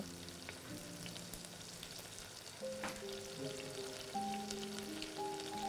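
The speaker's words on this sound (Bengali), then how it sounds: "সাদা তেলের মধ্যে রসুন আর আদা কুচি দিয়ে সেটাকে তুমি ভালো করে আগে ভেজে দিচ্ছ" Chopped garlic and ginger fry in white oil for a Manchurian, a quiet, steady sizzle with light stirring, while faint tonal background sounds drift underneath.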